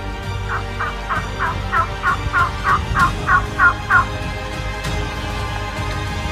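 A wild tom turkey gobbles in a rapid rattling burst of about a dozen notes, fairly close, over a quiet outdoor background.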